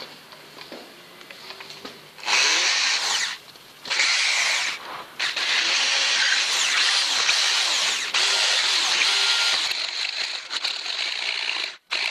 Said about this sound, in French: forêt étant trop court, il faut que je fasse tous les trous à leur tour en fait.